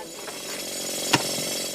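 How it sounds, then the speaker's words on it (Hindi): A rock drill bores into stone at an all-female gem mine in Karoi, Zimbabwe, where aquamarine is dug. The drilling is a loud, steady mechanical roar that fills the whole stretch, broken by one sharp knock near the end. "ड्रिलिंग, हैमरिंग और बड़े बड़े पत्थरों की ढुलाई कारोई की महिला खनिकों का ये रोज का काम है।"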